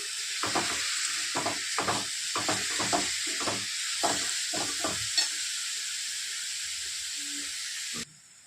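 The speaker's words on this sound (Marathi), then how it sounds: "तुपामध्ये थोडंसं परतून घेणार आहोत आपण" Pumpkin sautés in ghee for a sweet pumpkin barfi, with about a dozen rhythmic spatula strokes scraping through a constant bright hiss that cuts off abruptly near the end.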